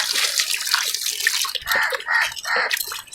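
Water is poured and splashed while something is washed clean by hand, with irregular trickling and splashing bursts up close and no talk.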